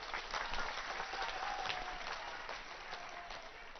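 A large crowd applauds loudly at a political rally in Bihar, dense sustained clapping filling the whole stretch with no speech over it.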